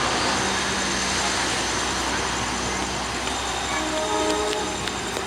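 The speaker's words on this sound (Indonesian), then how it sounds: "Ada kereta lagi di belakang saya." A KRL commuter electric train passes on a double-track line near the former Jatinegara depot, a loud, steady rumble of wheels and carriages close by with brief higher tones toward the end, no talk.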